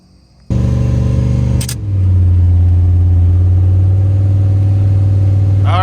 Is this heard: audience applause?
no